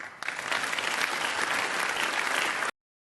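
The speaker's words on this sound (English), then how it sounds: "What the fuck are you fools clapping at?" Applause from an audience at a political speech, loud dense clapping that swells in after a brief start, holds steady, then cuts off abruptly into silence.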